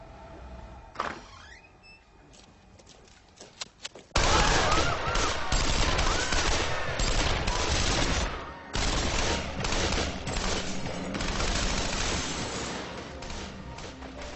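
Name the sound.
bursts of automatic gunfire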